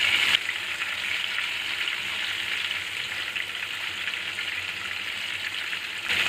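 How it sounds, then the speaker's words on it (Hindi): Soya chunk kebabs deep fry in hot oil, a loud, even, continuous close sizzle and crackle that holds steady throughout with no voices. "तो अब सारे कबाबों को इसमें एक एक करके डीप फ्राई कर लेंगे इस तरह से।"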